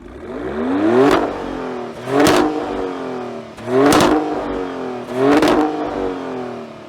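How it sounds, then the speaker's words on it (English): A 2025 Maserati Grecale Trofeo V6 revs in Corsa mode: four loud, sharp exhaust blips spaced about a second apart, each rising and falling back, with no talking. "we should go into Maserati's racing mode or Corsa mode and see what that exhaust sounds"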